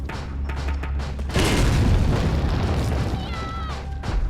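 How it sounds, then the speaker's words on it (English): A grenade explodes in the video game Resident Evil 4, one loud, broad boom partway through that rumbles and fades over about two seconds, after quieter game sounds and a few short clicks. "Get myself a prepared grenade."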